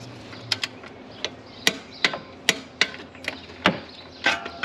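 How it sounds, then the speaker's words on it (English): Bolt on a Jeep Wrangler belt tensioner pulley being tightened and torqued during a water pump replacement, heard as a series of sharp, close metallic clicks and taps at irregular intervals, alone without talk. "I'm gonna go ahead and tighten the bottom one, and we're gonna torque that one down to 45."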